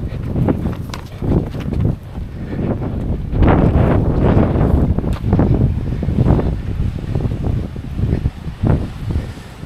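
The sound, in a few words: wind blowing during a mountain marathon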